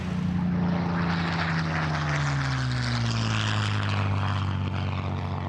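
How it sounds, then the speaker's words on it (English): Steady, loud drone of a Spitfire aeroplane's engine in flight, with a continuous tone that slowly sinks in pitch across the clip. No voices accompany it. "You're flying my aeroplane."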